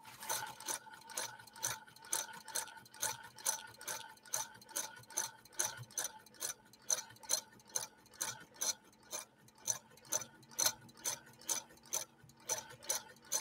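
A 1948 Frister & Rossmann sewing machine stitches through two layers of vinyl-content Naga hide, a steady run of quick mechanical ticks and clatter that is close and continuous, with a low motor hum underneath.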